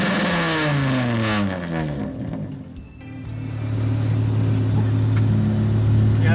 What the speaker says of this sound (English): all I did was add this muffler, and it's like a completely different sound.